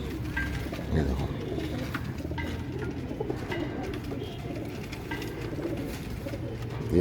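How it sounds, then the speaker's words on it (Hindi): Pigeons coo with low, throaty calls repeating over a busy background of rustling and shuffling, close by. "ये पूरा कबूतर देखो"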